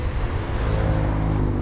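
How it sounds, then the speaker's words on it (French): Cars idle and roll nearby at a roadside test spot, making a steady, loud low rumble of engines and traffic that holds unbroken throughout, with no voices. "Il manque plus que ces voitures s'en aillent."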